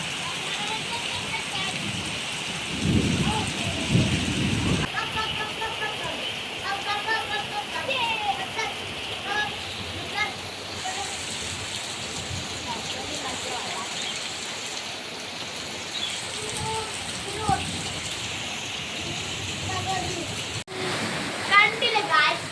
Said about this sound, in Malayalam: ശക്തമായ മഴ.